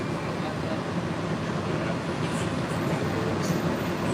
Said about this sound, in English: here comes the Express Monorail coming back, a new, different one